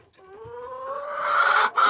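A chicken inside a coop of egg-laying hens lets out a single loud, drawn-out call that rises in pitch, close by and with little else behind it.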